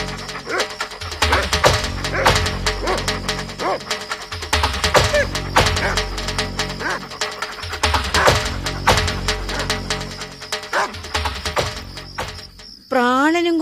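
Village dogs barking in an animated folk tale for children, repeated loud, rhythmic barks and yips over a busy musical score, ending with a brief swooping effect.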